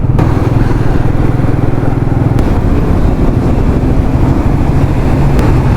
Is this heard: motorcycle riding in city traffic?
yes